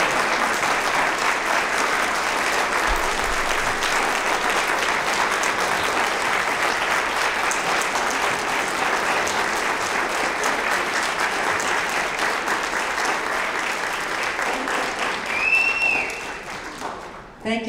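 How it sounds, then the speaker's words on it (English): A large audience applauds a keynote speaker, Mary Ellen Copeland, with sustained, dense clapping that stays loud and steady for about fifteen seconds before tapering off at the end. "please join me in a round of applause for Mary Ellen"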